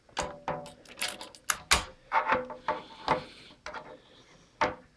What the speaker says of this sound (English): So I'm actually going to flip the keyboard over.